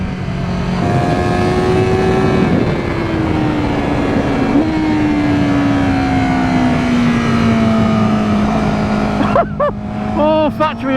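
A 2024 Honda Fireblade SP motorcycle with split throttle bodies revs hard and close, its engine note climbing and holding in a long sustained pull before sharp blips and a voice break in near the end.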